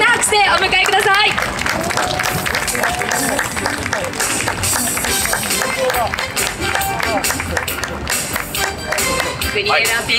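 Applause and cheering from a crowd at a tennis event greet a special guest, with lively clapping and chatter, while an announcer's amplified voice talks over the noise throughout.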